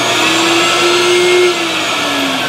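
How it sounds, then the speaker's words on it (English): A vacuum pump on a thermoforming rig draws a plastic sheet down onto a lettered mold, a loud steady whining drone with a sustained tone that shifts slightly lower partway through, alone and close. "I'm going to flip this switch down, drawing my vacuum."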